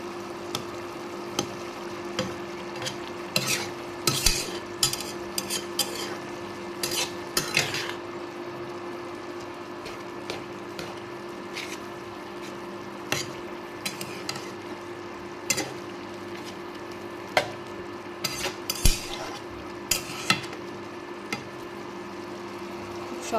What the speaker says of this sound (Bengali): দেখুন, ভালো করে নেড়ে চেড়ে দেব, ঝোলটা একদম ঘন ঘন হয়ে যাবে